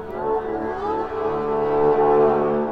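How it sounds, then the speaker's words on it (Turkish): A yaybahar, the Turkish instrument whose strings feed coiled springs and drums, sounds a droning bowed tone with layered ringing overtones and a hollow, reverberant swell. "Mesela bunun adı yaybahar."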